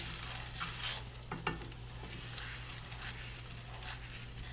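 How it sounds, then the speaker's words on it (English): Pecans simmer in melted butter in a pan, a soft bubbling sizzle with a few light scrapes and taps of stirring over a faint low hum, no one speaking. "We're just going to allow these to simmer in the butter for 5 minutes."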